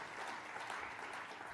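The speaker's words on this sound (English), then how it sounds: "And a nice round of applause for Steve." An audience at an outdoor theater in the woods applauds in a brief, steady burst of dense clapping, moderately distant.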